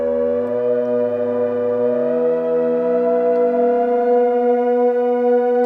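Drone from a Solar 42 synthesizer, out of tune while being retuned: a loud, steady, sustained multi-tone hum whose lower pitch slides upward and settles, with no talking.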